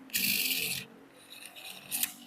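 A Shimano Antares DC fishing reel on ceramic bearings spins with a quick, high whirring rasp, then fades to a faint hum before a short second whirr near the end.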